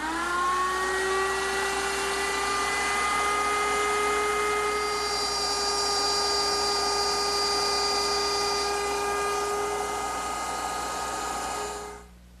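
Router fitted with a straight bit and guided by a clamped block, cutting a rabbet along a board. A steady, loud, high-pitched motor whine holds for about twelve seconds, then spins down at the end, with no talk.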